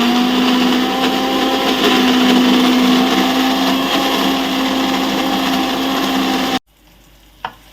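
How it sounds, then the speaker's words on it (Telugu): A kitchen mixer grinder blending fried onions with fenugreek, coriander seeds and mustard for a Telangana-style fish curry paste, a loud steady whirring roar that cuts off abruptly, followed by a brief click and near silence. "దాంట్లో వేసుకొని మిక్సీ పట్టుకుందాం."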